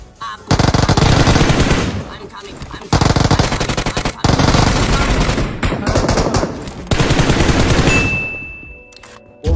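Dense, rapid bursts of automatic gunfire from an online multiplayer shooter game, loud and sustained in long volleys broken by brief pauses, with a single tone ringing near the end.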